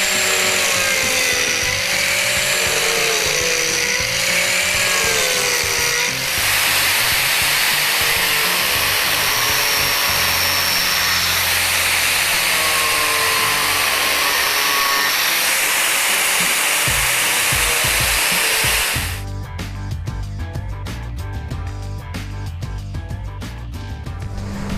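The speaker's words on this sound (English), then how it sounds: "The first thing you notice about the TURBOPlane is it has very wide carbide teeth which produce a shallow, wide planing cut." Arbortech TURBOPlane with wide carbide teeth shaving wood in a shallow, wide planing cut: a loud, steady whirring grind lasting most of the stretch, switching to a harsher, buzzier texture near the end.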